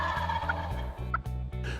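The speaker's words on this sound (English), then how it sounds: "This bird gobbled and paced for 45 minutes along this fence." Wild turkey gobbling outdoors beside a fence line, a loud close rattling gobble repeated in quick pulses over a steady background.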